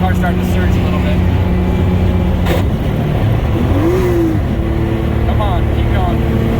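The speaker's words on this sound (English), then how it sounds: "Oh man, the car's starting to surge a little bit." Drift car engine surging and droning steadily at low battery voltage while the electric power steering and cooling fan run, close and continuous with someone talking over it.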